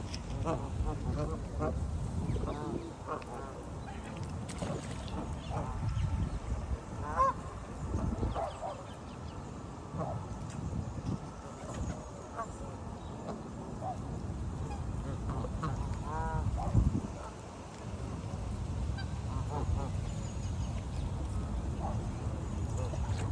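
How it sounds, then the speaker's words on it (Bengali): A large flock of waterfowl honks and quacks continuously, a busy overlapping chorus with some voices and background noise mixed in. "শত শত হাঁস"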